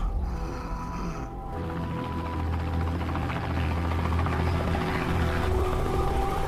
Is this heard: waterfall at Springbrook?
no